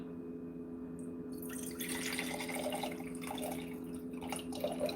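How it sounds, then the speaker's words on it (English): Sea moss gets rinsed under water, producing soft splashing and trickling with scattered drips over a faint steady hum, fairly quiet and close, with no talking. "I'm gonna rinse it again too."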